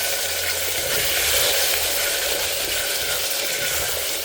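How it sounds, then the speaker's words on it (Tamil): Asafoetida and small shallots frying in oil in a stone pot, giving a steady, dense hiss of sizzling that holds at an even loudness throughout with no voices. "பெருங்காயம் கொஞ்சமாக போட்டுருக்கேன் சின்ன வெங்காயம்"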